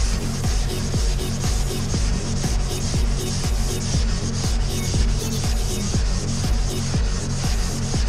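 Hand sanding of a car's wheel arch with light pressure, a steady rhythmic rasping scrape of paper strokes repeating about twice a second, close and continuous with no talk.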